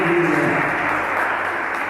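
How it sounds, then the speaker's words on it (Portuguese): A church congregation applauds to praise the Lord, a steady, fairly loud wash of clapping filling the room. "Vamos aplaudir e exaltar o Senhor."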